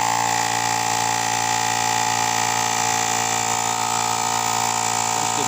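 The built-in compressor of a T700 jump starter inflates a car tyre, a loud, constant mechanical whine and buzz that runs unbroken and close throughout.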